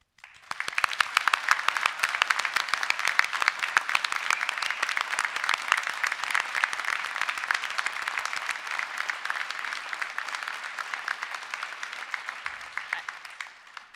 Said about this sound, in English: So can I please ask everybody to join me in a final round of applause?